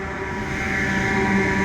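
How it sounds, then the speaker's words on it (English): A loud industrial generator running in a neighborhood near a homeless encampment, giving a steady, unbroken mechanical drone with a low hum and a constant high hiss, close by and with no one talking. "That noise is our industrial generator"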